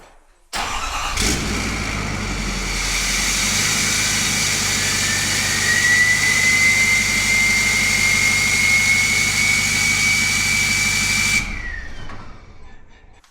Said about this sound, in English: All right, so here's a cold start. It's gonna remote start it, and then I'm just gonna turn it off.